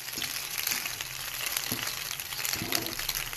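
Pasta with butter and sautéed onions is stirred in a hot frying pan, giving a dense continuous sizzle and hiss with soft repeated scraping and clinks of the spoon, close and even, no talking.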